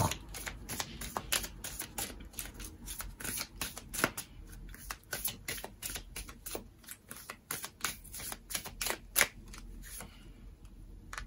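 Tarot cards are shuffled and drawn by hand, giving a rapid run of crisp flicking riffles and soft slaps, close and moderately quiet, with no talking over them.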